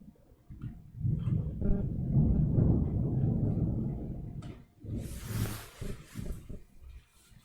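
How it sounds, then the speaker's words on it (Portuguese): Thunder cracks close by. A deep rolling rumble swells for a few seconds, then a sharper, brighter crack follows before fading. It sounds loud and near, with no talk over it. "isso foi um trovão"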